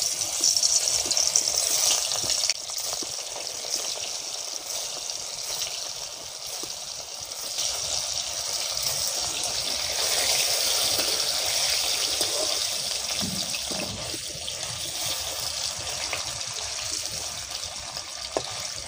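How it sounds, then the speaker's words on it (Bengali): Paneer frying in hot mustard oil in a kadai, a loud continuous hiss and crackle with small shifts in intensity. "তেল গরম হয়ে গেছে, এবার আমি পনিরগুলো ভেজে নেব।"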